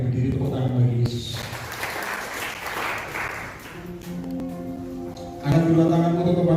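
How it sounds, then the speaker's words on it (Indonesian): A standing church congregation gives a short burst of applause at a worship service, heard alongside voices and sustained musical tones that carry on after the clapping fades. "Mari kita berdiri, tepuk tangan bagi Yesus."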